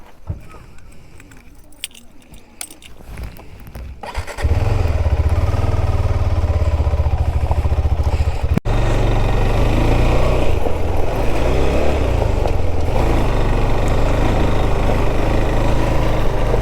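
Keys jingle before motorcycles parked by Vatadahosahalli Lake at sunset start up. A steady, loud low engine idle then rumbles on, briefly interrupted by a sharp click.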